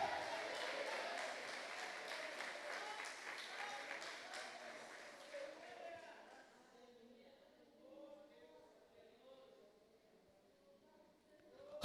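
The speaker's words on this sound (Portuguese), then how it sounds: "Dê a Ele um forte aplauso nessa noite" Congregation applause during a live deliverance church service, a dense wash of clapping that fills the first six seconds and then fades to scattered claps under worship sounds and voices.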